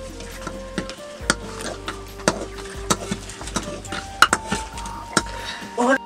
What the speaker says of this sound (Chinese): 从天来手里夺过饭铲，熟练地搅拌起来